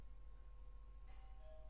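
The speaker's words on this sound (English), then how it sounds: "There's the doorbell." A house doorbell chimes faintly in a quiet room, one soft two-tone ding arriving partway through over a low steady background hum.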